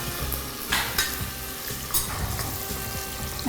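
Mushrooms for biryani frying in a pan toward golden brown, a steady close sizzle with repeated stirring scrapes and clicks, no voices.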